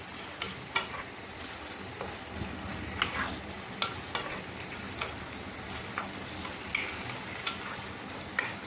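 Vegetables and chicken sauté in a pan with a soft, steady sizzle, while a utensil scrapes and clacks against the pan at irregular intervals as the food is stirred; fairly quiet, no voices.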